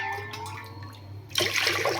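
Water poured from a glass into moong dal for rasam: a faint background hum, then a sudden bright splash and gurgle that starts partway through and continues to the end.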